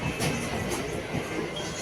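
Inside a packed moving train late at night, a steady rumbling drone with faint rattles fills a brief stretch.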